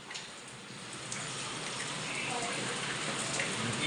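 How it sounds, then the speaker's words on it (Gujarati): Heavy rain falls in a steady, dense hiss that grows slightly fuller over a few seconds, with no breaks and no individual drops standing out. "જો કેવો વરસાદ પડે છે,"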